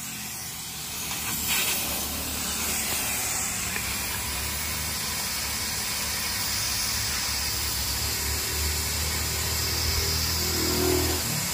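Air hissing steadily and loudly into a truck tyre being inflated with a clip-on gauge, a continuous rushing stream with a low mechanical drone underneath, no speech.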